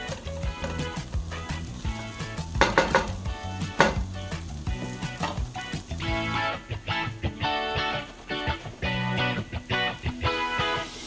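Meat for lettuce tacos browns in a pan with a soft, continuous sizzle, partly buried under steady background music.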